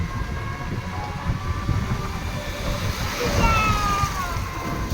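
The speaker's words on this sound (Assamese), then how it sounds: "ট্ৰেইন" A train passes the railway eco park at Rangia, a rumbling roll with drawn-out tonal horn notes rising over it, while people talk nearby.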